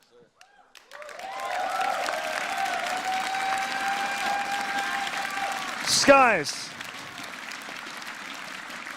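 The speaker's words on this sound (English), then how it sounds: "you guys are applauding them because that was incredible" Arena crowd applauding at an esports world championship final in Rainbow Six Siege, a broad steady roar of clapping under a commentator's voice, with a loud swooping electronic effect near the end.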